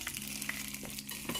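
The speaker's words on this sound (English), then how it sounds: "My husband frying dumpling." Leftover Jamaican banana dumplings fry in oil with a close, steady sizzle and some stirring noises, and no one speaks.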